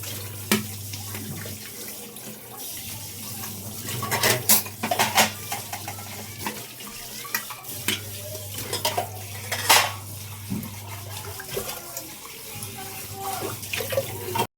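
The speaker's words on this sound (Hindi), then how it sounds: "तो फटाफट बर्तन धोऊंगी" Dishes, pots and cutlery clatter and clink in a home kitchen sink under a running tap, with a steady low hum throughout and intermittent louder scrapes and knocks close by.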